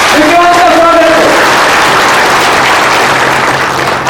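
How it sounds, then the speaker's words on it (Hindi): Loud, dense applause from a rally audience welcoming Vikrant fills the whole moment with steady, close clapping, and a voice is briefly heard over it near the start. "जरा जोरदार तालियों से विक्रांत का स्वागत है।"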